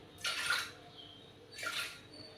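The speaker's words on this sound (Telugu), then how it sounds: "కొంచెం వాటర్ వేసుకోవాలి." Water is poured in two short splashing bursts into a pressure cooker holding washed chana dal, close by with a brief pause between the pours.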